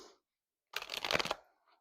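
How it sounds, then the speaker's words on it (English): A short burst of tarot cards being shuffled close by, a quick riffling flutter lasting under a second, with near silence around it. "Give me one more shuffle for Aquarius."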